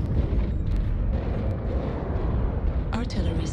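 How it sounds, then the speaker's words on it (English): An artillery strike in a video game, heard as a dense, rumbling roar of blasts filling the whole stretch with a sharper crack near the end. "Artillery strike online. Target destroyed."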